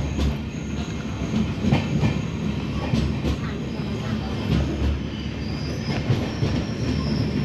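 Passenger train travelling toward Mumbai, a steady rumbling roar of wheels on rails with rhythmic clatter and occasional squeals, heard from inside the carriage with faint voices in the background.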